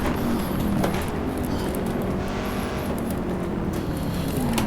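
A Ford Mustang Boss 302 race car engine in the video game Assetto Corsa at Castrol Raceway, with a loud continuous roar that holds steady and shifts slightly in pitch as it drives.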